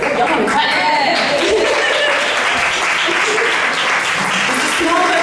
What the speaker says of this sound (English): Y'all want to clap?